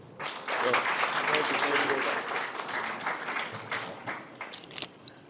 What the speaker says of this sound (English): Some more applause.